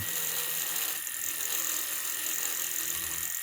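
Rotary burr grinding the ports of a Stihl MS 261 chainsaw cylinder, a continuous high-pitched whine with a gritty scraping texture, steady and close.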